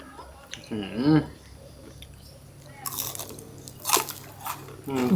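Crispy deep-fried banana blossom is bitten and chewed, giving a few sharp, close crunches in between people talking.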